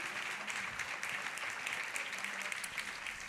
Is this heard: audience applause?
yes